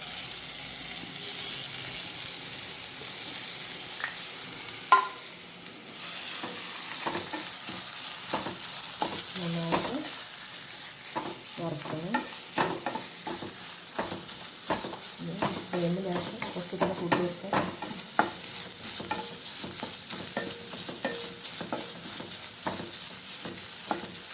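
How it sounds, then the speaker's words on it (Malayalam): Grated coconut roasting in coconut oil in a pan for a mussel curry: a continuous soft sizzle with repeated scraping stirs, a brief clatter near the start, and steady frying throughout without talk. "നമുക്ക് തേങ്ങ വറുക്കാം"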